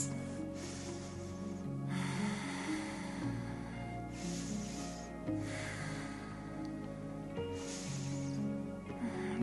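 Slow, deep breaths during a yoga splits practice, each long inhale and exhale rising and falling as soft airy whooshes over a steady low hum, with no speech.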